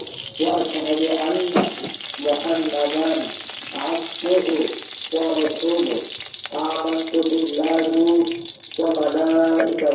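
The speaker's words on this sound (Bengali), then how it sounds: "কালো জিরা ফোড়ন দিলাম" Black cumin seeds crackle and sizzle in hot oil in a wok as a continuous frying hiss, while a voice talks over it in short bursts throughout.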